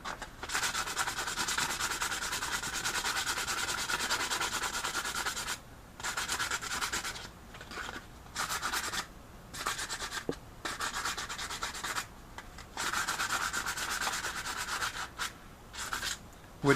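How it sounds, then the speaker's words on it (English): A Graflex lightsaber blade tip is sanded by hand with 100 grit sandpaper: close, steady rasping strokes in long bursts, broken by several short pauses. "once the tip is on, I'll also sand the tip with 100 grit"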